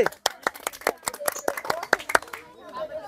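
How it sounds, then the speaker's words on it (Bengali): An audience at a village ball-tossing game claps for a contestant, giving a run of sharp, uneven hand claps that thin out near the end. "তার জন্য সকলে একটা হাততালি"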